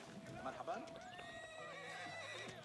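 A horse whinnies in the real-time strategy game Age of Empires 4, a faint, wavering neigh heard beneath steady game noise and someone talking, with hoof clatter and other unit sounds mixed in.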